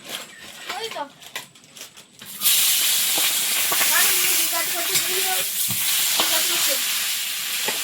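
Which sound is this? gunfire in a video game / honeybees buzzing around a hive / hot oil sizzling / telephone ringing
hot oil sizzling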